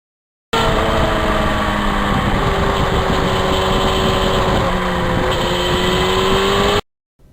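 A 1991 Yamaha FZR 1000 motorcycle engine while riding: a loud, close, continuous engine drone with subtle pitch shifts, running steadily before stopping abruptly.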